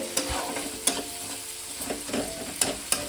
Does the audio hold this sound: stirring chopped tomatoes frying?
yes